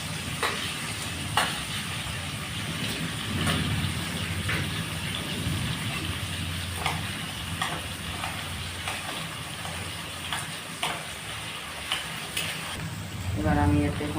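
Boiled potatoes tipped into a hot pan and stirred, giving a steady sizzle with broadband frying hiss and scattered scraping clicks of a spatula, ending in a brief louder clatter and stir.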